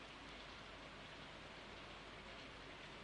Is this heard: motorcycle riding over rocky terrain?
no